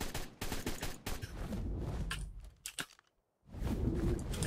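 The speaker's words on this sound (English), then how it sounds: "Sometimes we just have to shoot the rifle." Rifle shots fired in the dinosaur video game DinoOverhaul X, a string of loud sharp cracks in quick bursts, close up, with a brief silence before another burst of gunfire.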